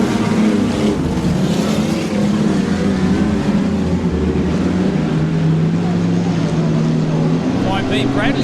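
Super saloon race cars roar around a Hawkes Bay speedway track in a steady, loud engine drone that holds throughout, with a commentator talking over the racing.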